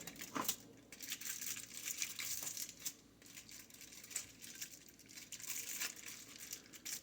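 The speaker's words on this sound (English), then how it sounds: "We fold the foil." Thin aluminium hair foil folded and crinkled by hand during hair colouring, close-up crisp crackles and soft taps repeating steadily, no talk.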